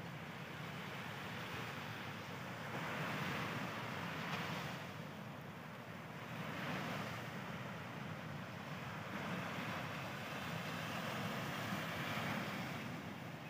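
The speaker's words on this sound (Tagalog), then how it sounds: "Tingnan mo natin yung hampas ng alon sa Dalampasigan." Steady roar of surf at Patar Beach, Bolinao, Pangasinan, with waves washing in and breaking in slow repeated swells, wind rushing across the microphone throughout.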